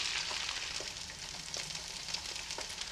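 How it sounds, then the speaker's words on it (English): Eggs frying in a frying pan, a continuous close crackling sizzle full of tiny pops and spits that holds steady from start to finish. "Looks like a frying pan and some eggs to me"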